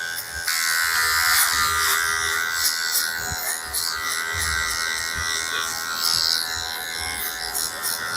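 Electric hair clipper cutting hair during a close barbershop-style haircut, a steady high buzzing hum that runs without a break for the whole stretch at an even, fairly loud level, with small shifts as the blades move through the hair.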